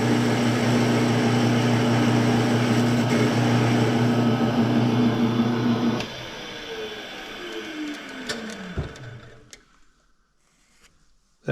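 Machining a chamfer on the outer corner of a steel part for a 50-ton axle puller, a steady machine whir with a tonal hum that cuts off midway, followed by fading scraping and a few sharp clanks.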